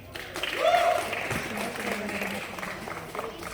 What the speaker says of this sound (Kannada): ಜೋರಾಗಿ ಚಪ್ಪಾಳೆ ಪ್ಲೀಸ್